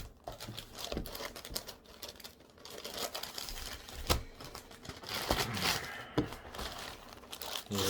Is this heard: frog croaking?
no